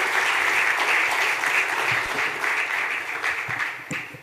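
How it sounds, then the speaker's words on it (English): Audience applause at an architecture event, a dense, steady wash of clapping that holds strong before thinning out toward the end into scattered individual claps. "May we have a big round of applause for Rohit and Vandini."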